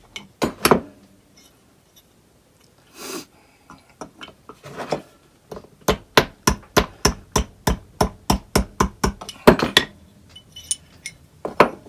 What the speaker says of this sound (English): we'll put the chisel right there and just shape it around that way